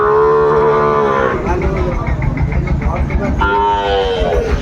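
Sahiwal cattle low loudly at a crowded livestock market, two long drawn-out moos with a short gap between them, close to the listener and heard over background chatter.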